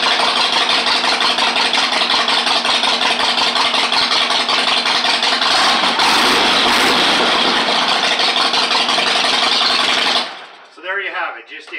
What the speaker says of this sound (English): I'm going to fire it up so you can hear it, because the sound of a Harley is like nothing else.